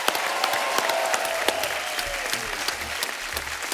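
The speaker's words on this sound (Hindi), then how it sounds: "जोरदार तालियां।" Loud, dense studio audience applause on a television comedy show fills the whole stretch, steady and continuous with scattered sharper claps, and a brief voice trails off at the start.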